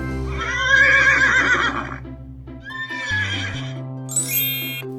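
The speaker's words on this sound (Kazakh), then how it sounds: "Жылқы." A horse gives a loud, drawn-out whinny, close and clear, rising and wavering before a shorter second neigh and a high squeal at the end, with no talking.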